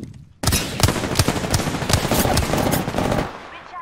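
Loud, close automatic gunfire in the battle-royale shooter Apex Legends: a sustained rapid stream of shots with sharp individual cracks, running almost unbroken for about three seconds before cutting off.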